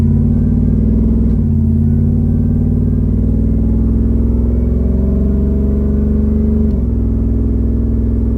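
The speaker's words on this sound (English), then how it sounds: "you can hear the gears." Built Ford SVT Lightning pickup cruising in gear, a heavy continuous engine rumble with a steady mechanical gear whine on top and brief shifts in tone near the start and end.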